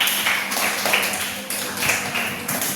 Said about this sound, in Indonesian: Terima kasih untuk kelompok 3. Berikan tepuk tangan.